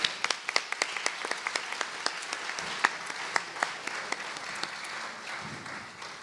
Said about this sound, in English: Let's give the Board of Education a round of applause.